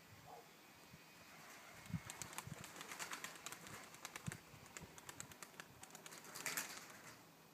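A pigeon flaps its wings in flight, a run of quick soft wingbeat claps close by, clustering into a louder flurry near the end against quiet outdoor background.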